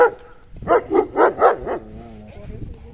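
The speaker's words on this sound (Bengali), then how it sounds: "তো দেখেছেন কিভাবে ঘেউ ঘেউ করা শুরু করেছে" Dogs at a house in a Polish village let out a run of four or five loud, evenly spaced barks close by, then a softer yelp and whine trailing off.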